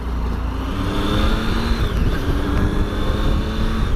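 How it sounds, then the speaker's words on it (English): A 2017 Triumph Tiger 800 XRx three-cylinder engine under way, a steady, smooth drone mixed with wind noise, holding an even pitch with a slight dip in the middle and no talking. "The engine on here is really lovely."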